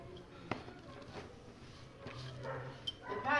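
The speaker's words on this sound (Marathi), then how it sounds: "येडा कुत्रा येते" A dog gives a few short, soft barks and whimpers over a quiet indoor background during a birthday treat, with brief sharp yelps near the start and toward the end.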